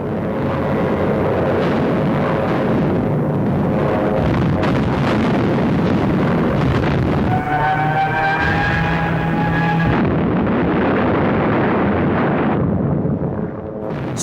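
Wartime bombing during a WWII city assault, with heavy rumbling explosions, a roaring aircraft engine and a rising whistle-like tone partway through, loud and sustained.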